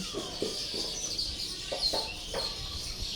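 Short chirping bird calls repeat several times at an uneven pace over a steady background hiss, fairly faint and a little distant, with no talking.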